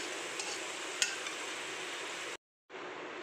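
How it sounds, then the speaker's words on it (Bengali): Vegetables for veg fried rice fry in a kadai with a steady, soft sizzle and a faint stir or two, briefly cutting out before the frying resumes. "এইভাবে একটু ভেজে নিতে হবে"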